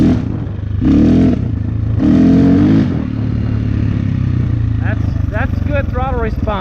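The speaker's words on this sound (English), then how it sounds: "Let's whack the throttle open." A KTM 450 EXC dirt bike revs hard in two loud throttle blips over a rough idle, then settles into a steady idle while someone talks nearby.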